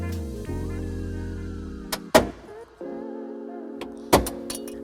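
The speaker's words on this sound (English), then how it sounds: "To remove those, we'll just take a trim panel tool and pop them out" Trim panel tool popping out plastic push pins inside a 2020 Nissan Sentra, two sharp snapping pops a couple of seconds apart over a steady electronic chime and hum, close by, with no talking.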